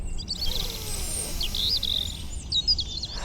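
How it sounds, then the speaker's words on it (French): Spring birds chirp and tweet in bright, high bursts over a soft, steady outdoor background hum, with a few louder calls standing out near the end. "Le bruit d'un oiseau au printemps?"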